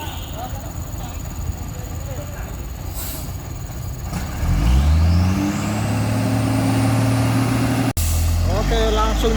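Container trailer truck engine roaring under throttle on a steep uphill slope, the low drone swelling loud midway and holding, with a sharp clack near the end and people talking over it.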